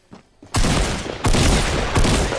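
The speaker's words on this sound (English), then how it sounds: "I shoot him." Gunfire in the Fortnite video game, three loud close bursts of shots in quick succession, each sustained and booming, after a brief quiet start.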